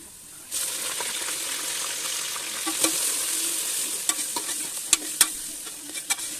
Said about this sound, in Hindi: बस अब इस स्टेज पे हम कलेजी ऐड कर देंगे।